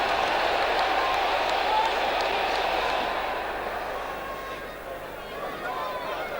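A big football crowd at a Middlesbrough match makes a dense, continuous roar and murmur that stays broad and steady, easing slightly toward the end, with a commentator speaking over it.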